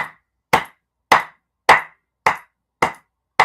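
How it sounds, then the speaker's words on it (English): One person claps their hands slowly and deliberately, seven sharp, evenly spaced claps about half a second apart, close and crisp with silence between each. "Let me clap for you"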